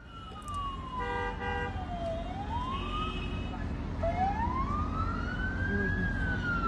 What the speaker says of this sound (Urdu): یہ سائرن بج رہے ہیں۔